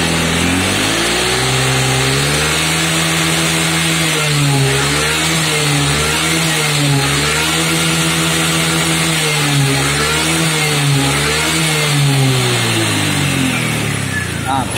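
Honda Vario scooter engine undergoing a charging-system test for a faulty alternator stator coil, revved up and down in repeated swells, loud and close, with a steady mechanical drone throughout.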